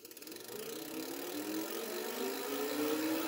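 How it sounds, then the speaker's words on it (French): Duotts F26 electric bike motor revving up to top speed with the bike tipped over, a steady whine rising in pitch and growing slightly louder over a few seconds, close by. "je bascule le vélo et j'accélère"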